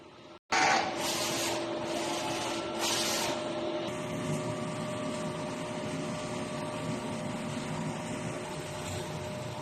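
An inkjet ink tank printer runs a nozzle test, a steady mechanical hum and whir with brief bursts of carriage noise near the start, fairly quiet and close with no talk.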